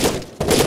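Two quick bursts of close gunfire from a firefight against terrorists in Rainbow Six Vegas 2, loud and punchy with a brief gap between them.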